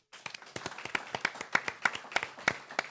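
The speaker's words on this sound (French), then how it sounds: "Je vous demande de faire un tonnerre d'applaudissements pour Damien" Audience clapping at the Paris Marathon 2025, greeting a runner, with sharp individual claps in an irregular, building rhythm, fairly close and moderately loud.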